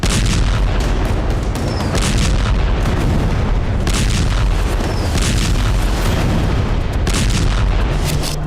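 Continuous heavy rumbling blasts and booms from Israeli bombing of Hamas positions in Gaza, loud and sustained throughout with repeated distant explosive bursts and no speech.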